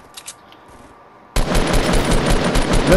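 Rapid loud bursts of automatic gunfire in a video game, starting abruptly after a near-silent stretch with a few faint sounds and then continuing as a dense, sustained volley.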